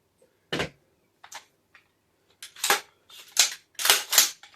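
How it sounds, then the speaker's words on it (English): Sharp mechanical clacks and metallic actions of an AR-10 .308 rifle and a 5.56 rifle being cleared, several close distinct clicks spaced irregularly, getting busier toward the end. "I'm going to go ahead and clear both weapons."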